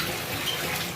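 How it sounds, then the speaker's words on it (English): Tap water running steadily into a bathtub at home as a child's bath fills, a continuous close hiss and splash with no talking. "Hold on, I gotta turn the water off for my son before he floods the bathroom"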